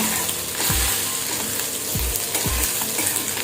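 Ginger with turmeric, coriander and cumin powder sizzles steadily in a pan while a spoon stirs through it, giving three or four soft scraping knocks over the continuous close frying hiss, no voices.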